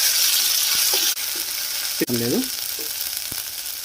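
Onions with ginger-garlic paste frying in a pan for chicken curry, a steady close sizzle with a few spoon scrapes and stirring clinks, and a brief word spoken over it.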